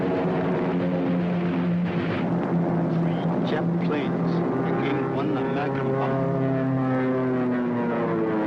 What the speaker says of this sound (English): That was a Japanese plane which came